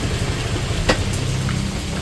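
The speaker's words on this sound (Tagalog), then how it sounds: "Biglang lakas ng ulan." Heavy rain falling steadily in rainy weather, a dense continuous hiss and patter at close range with a brief sharper splash in the middle.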